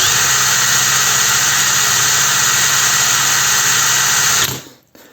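A Heimerdinger LB180 cordless gyroscopic screwdriver runs at full speed during an RPM test: a loud, steady, high-pitched motor whine held for over four seconds, then a quick wind-down to silence.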